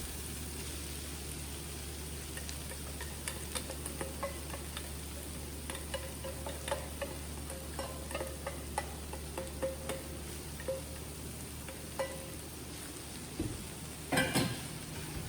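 Sweet potato frying with capsicum and onions in a pan keeps up a steady, fairly quiet sizzle for a long stretch, dotted with small crackles and ticks. A brief cluster of louder pops comes near the end, and nobody speaks.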